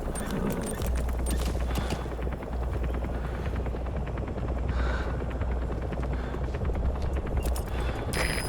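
Helicopter arriving at a landing zone in Metal Gear Solid V, a loud steady rotor chop with rapid beating blades and deep low rumble throughout, close and continuous.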